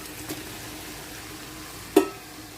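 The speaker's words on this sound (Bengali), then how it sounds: "আমি যে ছোটো বাইলা মাছগুলো ভেজে রাখছি সেগুলো দিয়ে দেবো এখন" Small fried baila fish stirred into a sizzling spice masala, with a steady soft sizzle and two brief utensil knocks, the second louder.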